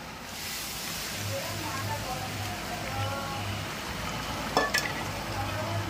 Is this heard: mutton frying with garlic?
yes